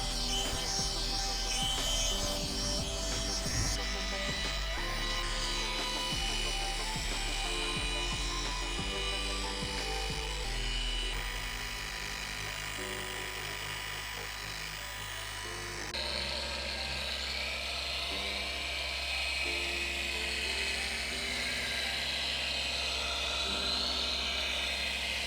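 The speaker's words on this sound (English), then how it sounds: "we're just doing a light polish to prep it for the ceramic coating" A machine polisher hums steadily on car paint during a light polish before ceramic coating, its whirring drone continuous and close, with pitch and load shifting partway through as the pad moves.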